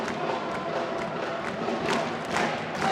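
A crowd at a women's college gymnastics meet, Oregon State versus Denver on senior day, joins in a dance party, a dense, lively roar of cheering voices with scattered thumps and shouts throughout.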